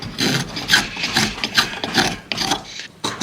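An infinitely adjustable hand plane shaves smooth curls from a hard wood, giving a run of close, fairly loud rasping strokes, roughly five of them, each separated by a short pause.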